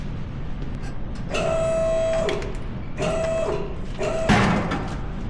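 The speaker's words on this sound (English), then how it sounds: "That was that shifter knob popping out." Shifter knob on an off-road wrecker popping out with a sharp clunk near the end, following several loud whirring mechanical bursts close by.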